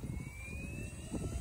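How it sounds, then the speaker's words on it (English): A radio-controlled model helicopter flies with a steady, loud mechanical whine and a continuous broadband rotor roar that holds even for the whole moment, with no one talking. "This helicopter flies."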